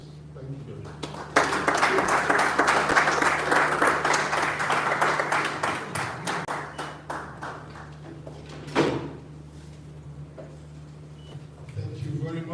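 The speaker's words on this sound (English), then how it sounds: "I think it deserves another round of applause." Applause from the audience at a Nigerian football league media parley, a loud burst of clapping that swells, holds for several seconds, then thins out, with a tonal hum running underneath.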